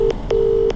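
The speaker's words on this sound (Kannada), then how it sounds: "ನಮ್ಮ ಅಪ್ಪನಿಗೊಂದು ಕಾಲ್ ಮಾಡೋದ ಇರಿ." Three short, loud phone keypad tones beep in quick succession as a call is dialed, each a clean steady tone separated by brief pauses.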